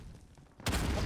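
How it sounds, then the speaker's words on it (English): A grenade launcher firing in a multiplayer shooter video game, a sudden loud blast that hits partway through and stays heavy and booming to the end. "That's a grenade launcher."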